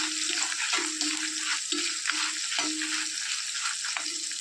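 Cumin seeds, a quarter teaspoon, sizzle in a hot iron pan for a Kerala-style shallot curry, a steady crackling hiss with short scraping stirs breaking in every second or so.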